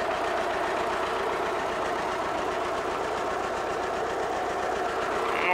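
A T-25 tractor engine idles nearby with a constant, busy mechanical rattle and drone, steady throughout with no voices.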